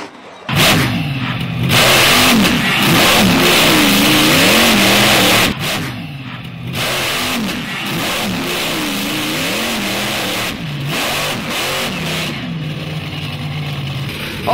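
A monster truck engine revs hard and loud as the truck drives up over old cars, its pitch surging and dipping repeatedly with brief drops between bursts over about fifteen seconds.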